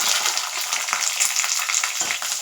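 Garlic fries in hot oil with mustard seeds and curry leaves, a dense continuous sizzle with faint scraping stirs, close and steady with no talking.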